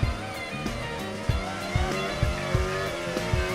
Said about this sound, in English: that's Oscar driving a Formula 1 car